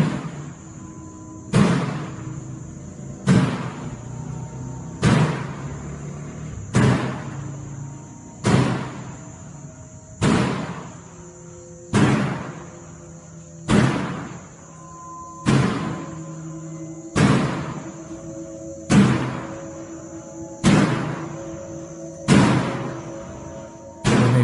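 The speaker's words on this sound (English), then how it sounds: "a red door that appears to be opening and slamming shut on its own" A red door slams shut again and again, about fourteen loud, sharp bangs at a steady rhythm a second or two apart, each followed by a short ringing decay, with no voices.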